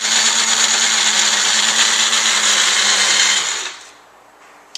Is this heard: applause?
no